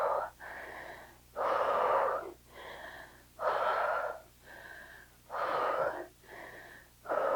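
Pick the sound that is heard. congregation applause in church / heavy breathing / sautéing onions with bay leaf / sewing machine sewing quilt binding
heavy breathing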